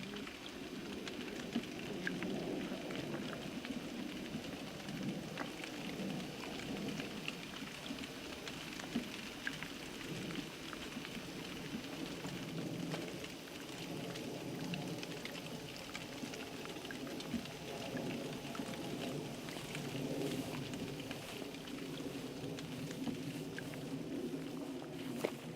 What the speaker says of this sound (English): No, now it's raining.